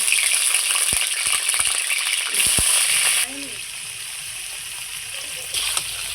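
Pieces of pointed gourd dropped into hot mustard oil in a kadai, bursting into a loud, close sizzle with stirring clatter, a few sharp knocks, and a voice speaking briefly over the frying.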